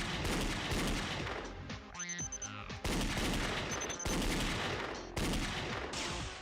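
Gunfire in the Danganronpa Another video game comes as loud, dense bursts of rapid shots, broken by brief pauses with reload-like mechanical clicks before the firing resumes.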